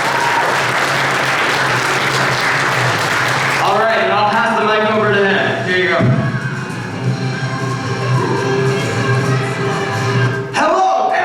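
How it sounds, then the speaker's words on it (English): Audience applause at a school event for a student keyboard player, dense clapping that fills the room, then thins out while a voice speaks over the fading claps. "Please give him a round of applause."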